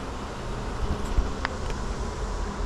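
A honey bee swarm buzzing while being moved from a bucket into a hive box, a steady close hum with faint rustles and a couple of brief handling sounds, no talk.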